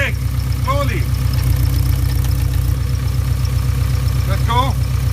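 A VW T3 Syncro idles with a steady low engine drone while decelerating and braking, with a couple of brief squeaky whines rising over the hum near the start and again near the end.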